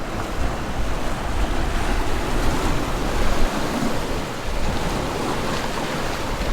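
Ocean waves wash steadily onto the Hawaii coast at Kaloko-Honokōhau, a broad continuous surf roar with wind buffeting the microphone, no voices.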